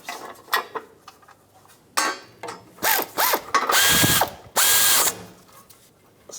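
A hand ratchet snugs down two bolts on a 1999-2006 Chevrolet automatic transmission shield, making close, loud bursts of rapid clicking separated by short pauses, with lighter metallic taps between the bursts.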